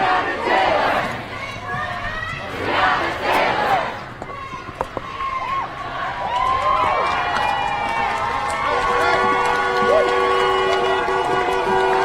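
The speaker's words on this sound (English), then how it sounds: "The crowd is passing Mayday from where we are." A street protest crowd for Breonna Taylor in Minneapolis passes by, with a broad wash of many voices and shouting rising and falling over steady ambient noise, plus some tonal sounds later on.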